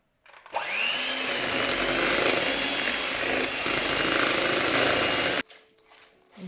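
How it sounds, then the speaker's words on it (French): Electric hand mixer beating Christmas biscuit dough with a whole egg, a loud steady whirring drone that starts abruptly, runs for about five seconds and cuts off. "Et l'œuf entier. Et je mélange avec le batteur."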